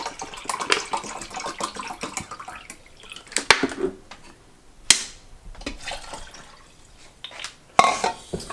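Four cups of water poured into two cups of rice for Mexican rice, splashing and trickling unevenly with a few sharp clinks and bursts, close and fairly loud.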